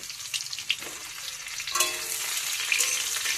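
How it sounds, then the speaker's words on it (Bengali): Pointed gourd (potol) sizzles as it fries in hot oil with potatoes and is stirred, giving a soft, steady crackle with occasional scraping strokes. "পটলগুলো নেড়ে চেড়ে ভেজে নেব।"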